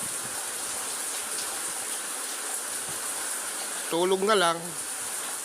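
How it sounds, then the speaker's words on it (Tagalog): Steady broadband hiss of rain falling continuously, with a brief voice speaking near the end. "Paano akong makakalabas nito? Umuulan na."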